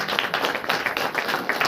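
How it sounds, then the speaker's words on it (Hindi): Congregation clapping in praise during a Hindi-language church service, a steady, dense patter of many hands close by, continuous throughout. "ताली बजा करके परमेश्वर को"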